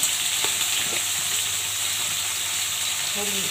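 Vegetables and chillies hit hot oil already flavoured with mustard seeds and nigella, giving a loud, dense frying crackle that stays steady throughout, with a brief metallic scrape or tap near the end.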